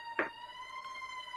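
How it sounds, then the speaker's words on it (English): A siren sounds nearby with a steady tonal wail holding through the whole moment, joined by a brief burst of noise near the start. "Sorry, that was the siren just went off."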